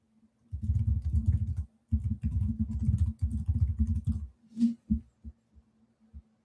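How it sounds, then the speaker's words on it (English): Rapid clacking keystrokes on a computer keyboard in quick bursts, pausing briefly between runs and trailing off into a few scattered taps, close and fairly quiet. "Gonna be lots of typing this whole week."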